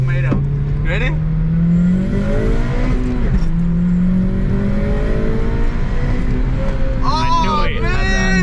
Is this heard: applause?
no